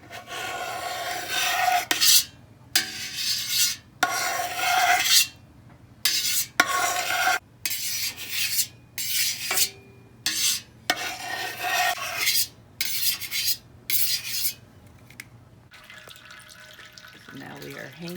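Rasping, scraping strokes of cutting sheep milk cheese curd into strips, about a dozen short bursts separated by brief pauses, close and fairly loud over a low background hum.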